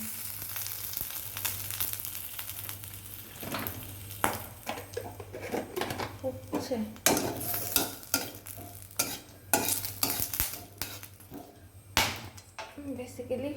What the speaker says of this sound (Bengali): এবার ফোড়নগুলো দিয়ে দেবো প্রথমে দেবো জিরে ফোরন তারপরে গরম মশলা ফোড়ন